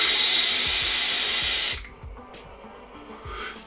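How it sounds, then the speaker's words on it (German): A TFV12 Cloud Beast King vape tank fired at 60 watts gives a strong, steady hiss of drawn air and sizzling coil for almost two seconds, then stops, followed by a few faint clicks and a quieter tail. "ich werde jetzt mal kurz ziehen mit 60 Watt"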